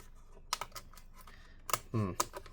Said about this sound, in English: the frame comes out of the keyboard relatively easily